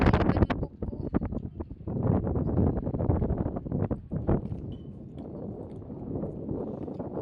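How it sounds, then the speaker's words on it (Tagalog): Strong wind buffets the microphone in heavy, uneven gusts, rumbling and roaring for several seconds before easing slightly. "Lakas ang hangin"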